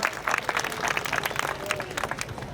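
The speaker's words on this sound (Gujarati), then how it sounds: "આપણે સૌ તાળીઓના જોરદાર નાદથી આ ક્ષણને વધાવીશું" A crowd at a community hall groundbreaking ceremony in Bhavnagar applauds to welcome a Union minister, sharp, busy hand claps forming a lively, sustained round of applause at moderate loudness.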